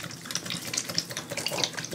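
Hot water runs from a tap into a bowl set up for soaking, a steady splashing stream close by with bright, fizzy spatter throughout and no voices.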